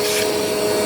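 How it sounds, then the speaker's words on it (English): A Dirt Devil Powermax XL vacuum cleaner runs at close range with a loud, steady motor whine and broad airflow hiss that hold unbroken throughout, with no talking. "Let's vacuum them instead."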